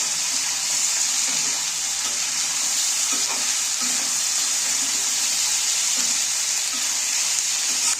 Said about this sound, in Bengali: এইবার আমি কাটা টমেটোগুলো তুলে দিচ্ছি। এবার নাড়তে থাকবো।